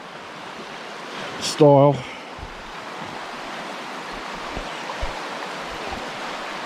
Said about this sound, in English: That water is really flowing